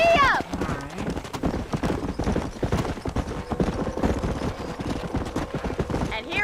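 A horse gallops in the Red Dead Redemption video game with a rapid, continuous clip-clop of hooves. Speech and game sounds run over the hoofbeats.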